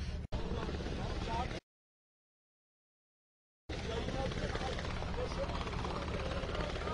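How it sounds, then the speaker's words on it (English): Two Apache helicopters hover over a ship at sea during a boarding, a loud rotor roar with wind buffeting. It cuts out to silence midway and then resumes. "There are two Apache helicopters attempting to land and attack us."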